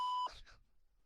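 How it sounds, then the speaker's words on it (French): A voicemail beep sounds before message recording begins: a single steady electronic tone lasting about a quarter second, followed by brief faint noise. "message après le bip sonore"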